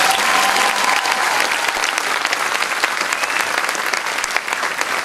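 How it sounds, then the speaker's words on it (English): Sustained audience applause fills a hall at a professional development event, dense and steady throughout with a faint murmur of the crowd beneath. "if we could just give one last huge round of applause"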